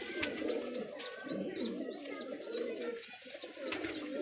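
A pigeon perched on a rooftop coos in repeated soft, rolling calls about once a second, close by, over a steady bed of outdoor background noise.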